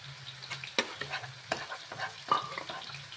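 A bay leaf toasts in a hot pan with onion paste for doi katla, a soft sizzle under intermittent scraping and stirring clicks from a utensil, close and without voices.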